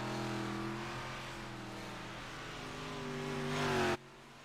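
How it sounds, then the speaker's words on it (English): Simulated 358 modified dirt race cars in the iRacing video game roar loudly with steady engine drone and rising revs, cutting off abruptly near the end. "these 358 modifieds were recently added in December of 2020 to the iRacing simulator"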